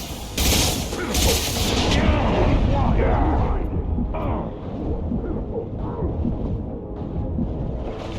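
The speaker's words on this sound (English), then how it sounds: "Firing a high impact shot." Gunfire and heavy impacts from the sci-fi shooter Mass Effect Legendary Edition, a dense loud burst of shots and booms in the first seconds, then rumbling combat noise under game dialogue.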